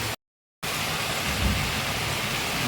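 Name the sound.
rain falling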